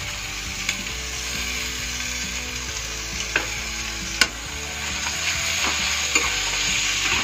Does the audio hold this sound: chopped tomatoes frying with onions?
yes